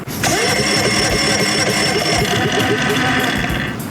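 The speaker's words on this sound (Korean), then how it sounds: "시동을 걸어보겠습니다." An EcoFlow smart generator engine catches and starts, settling into a loud, steady mid-pitched running drone with a high whine, close by.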